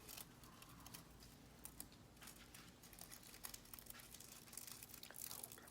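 Thin craft material scrunched and crumpled by hand at close range, a steady crinkling rustle with sharper crackles and ticks running throughout.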